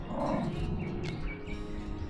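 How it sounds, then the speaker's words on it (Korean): A dog barks in a countryside setting, a single dull bark rising out of steady low rumbling background noise, fairly close, with no talk over it. "강아지."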